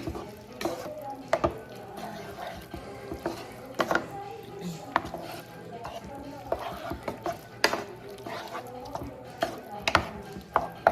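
Spoon stirring and mixing shepherd's pie ingredients in a bowl, with repeated scraping strokes and soft clunks in an irregular rhythm, close up and moderately loud.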